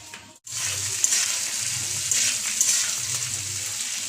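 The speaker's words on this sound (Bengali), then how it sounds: "দারচিনি আর এলাচ ফোড়ন দেওয়া হয়েছে" Cinnamon and cardamom frying in hot oil for a tempering, a brief dip then a loud, continuous close sizzle with crackling pops, alone without talk.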